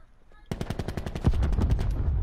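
Automatic gunfire in the Black Ops 4 Blackout video game: a rapid, loud burst of evenly spaced shots beginning abruptly and running to the end, with a heavier report layered in partway.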